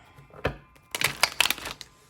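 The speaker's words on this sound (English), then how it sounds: "All right, last shuffle." A deck of tarot cards being shuffled up close: a soft riffle, a pause, then a quick run of crisp papery flutters and snaps.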